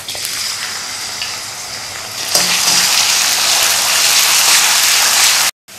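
Chopped garlic and ginger dropped into half a cup of hot oil in a kadai, a gentle fry that bursts into a loud, dense, continuous sizzle, close up, with no voices.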